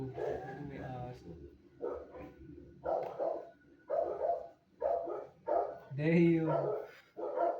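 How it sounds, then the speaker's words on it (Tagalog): A dog barks in a series of short repeated bursts, fairly close, mixed in with a person talking throughout. "May aso."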